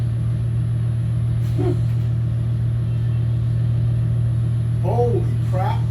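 Ford 5.0 small-block V8 on a dyno, running with a loud, steady low engine drone throughout, close and continuous, with brief voices breaking in over it.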